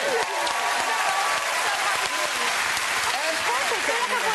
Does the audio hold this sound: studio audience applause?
yes